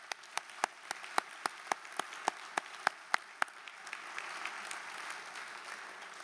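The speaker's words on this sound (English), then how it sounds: "Let's give him another round of applause." An audience applauds at a college inauguration ceremony. Evenly spaced single claps open it, then the sound thickens into a fuller, steady wash of applause from the crowd.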